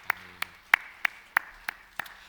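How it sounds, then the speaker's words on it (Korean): Crisp, evenly timed hand claps from a congregation during a Korean Sunday church service, about three sharp claps per second in unison, fairly quiet against a still room. "우리 박수로 하나님 앞에 크게 영광 올려드립시다."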